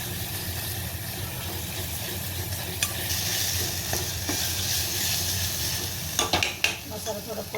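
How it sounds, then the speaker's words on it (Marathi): Spice masala sizzles steadily as it is sautéed in a pan for goli amti, with the close, continuous hiss joined by a few scraping spoon clinks and pan knocks toward the end. "मसाला थोडा परतते."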